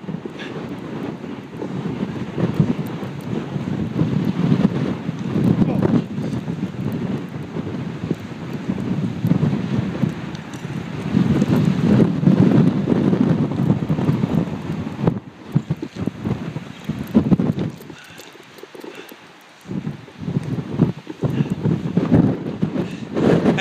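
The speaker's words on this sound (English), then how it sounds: "And I don't know if you've noticed, but it's a pretty windy day." Strong gusts roar across a mountain ridge on Mt. Baldy (Mt. San Antonio), buffeting the microphone in a loud, continuous rumble that swells and eases, with a brief lull near the end.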